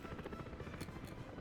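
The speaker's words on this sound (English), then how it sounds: "I hear an awful lot of helicopters." Helicopters in the city-building game Workers & Resources thrum with a rapid rhythmic rotor chop, steady and moderately loud throughout, with no talk.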